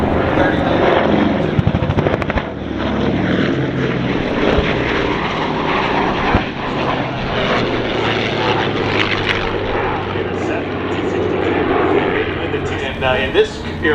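A Messerschmitt Me 262 jet flies past a B-17 Texas Raiders bomber, a loud continuous engine roar that fills the whole stretch with steady broadband rumble, while people talk over it.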